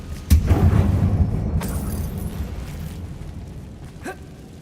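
A Confringo blasting spell goes off inside an old mine in Hogwarts Legacy, one sharp burst followed by a long, low, fading rumble, with a faint later pop.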